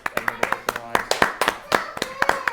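A small group claps for two home cooks after a tonkatsu meal, producing irregular, close, distinct hand claps over a few seconds with some voices in the background.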